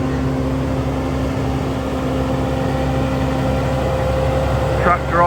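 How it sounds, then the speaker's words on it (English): A tractor rumbles with a steady low engine drone and tonal hum at forestry works at Brands Hatch, constant and fairly close, with a brief squeaky sound near the end. "Tractor off back to the yard."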